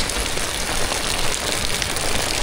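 Steady rain pours down at a market in Vietnam, a dense, even hiss of water on surfaces filling the whole stretch without pause, fairly loud and close, with no voices.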